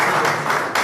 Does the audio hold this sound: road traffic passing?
no